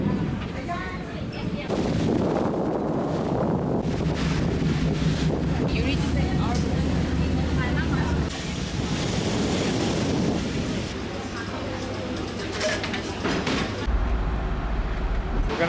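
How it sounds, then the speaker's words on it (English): The Star Ferry crosses the harbor to Central, Hong Kong. A continuous loud wash of water and engine rumble runs throughout, with wind buffeting the microphone and faint background voices. "We're gonna take the Star Ferry to Central."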